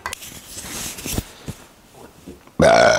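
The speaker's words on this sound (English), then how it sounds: "Stop burping on camera" A few low guttural burps sound close up in a quiet room, the last one loud and drawn-out.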